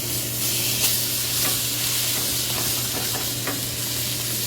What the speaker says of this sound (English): I'm going to sear it pretty hard for the beginning part